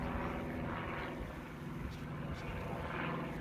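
A VQ Models P-51 Mustang electric RC plane flies on its maiden flight at a model flying field, its motor and propeller making a steady whirring drone of moderate loudness at some distance.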